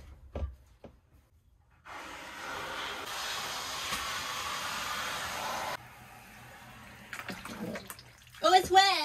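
A garden hose sprays water onto the side of a leaking RV camper, a steady close hiss of about four seconds that stops abruptly, with voices and handling noises before and after.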